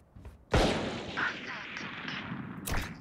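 A gunshot rings out in a tactical shooter video game, a single loud sharp blast with a long ringing tail, followed by a second burst near the end, while voices talk over it.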